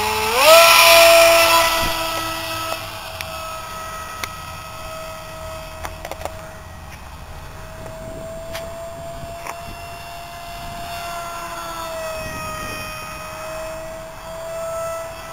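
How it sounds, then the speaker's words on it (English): Blitz RC Sky Surfer model plane with a V3 MicroJet motor at full throttle, a sharp high-pitched whine that bursts loudly at first, then holds a steady, slightly wavering tone as the plane flies off. "When you give it a shot, the motor sounds great."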